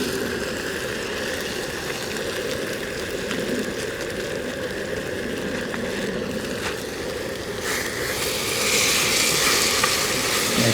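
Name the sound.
meat with seasoning cooking in a pot over a woodland fire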